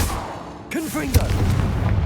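A Confringo fire spell bursts in Hogwarts Legacy with a sharp, booming blast and a loud crack, while a voice speaks just before the impact.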